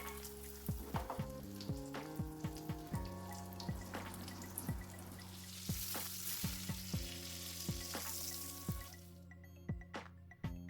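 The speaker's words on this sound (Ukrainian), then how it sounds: "І так смажимо всі листи капусти." Cabbage leaves sizzle in hot oil with a continuous hiss and frequent sharp pops and crackles, close by, with occasional stirring scrapes.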